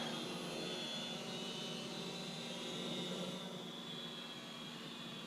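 A Syma X500 camera drone in flight gives a steady, continuous high whine of its small propellers, holding fairly level throughout and fading only slightly toward the end.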